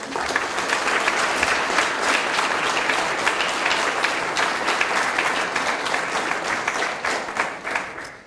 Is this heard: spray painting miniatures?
no